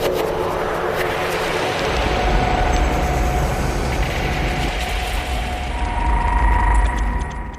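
A UK train journey from Manchester to York, heard from onboard: a loud, steady rumble of wheels and carriage with rattling mechanical noise that swells toward the end, no voices.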